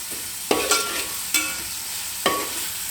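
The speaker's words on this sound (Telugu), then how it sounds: "ఇది ఇప్పుడు బాగా కొంచెం ఫ్రై కావాలండి, పచ్చి వాసన పోయేంత వరకే అండి" Ginger-garlic paste and vegetables for veg pulao fry in a pan, a constant close sizzle broken by three or four spoon scrapes and stirs, no speech.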